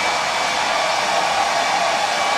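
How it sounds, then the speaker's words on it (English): A hair dryer blows steadily at close range, a loud, even whooshing roar with a faint whine running through it, unchanging from start to finish with no voices. "obviously you don't need to use a hairdryer if you're doing it yourself"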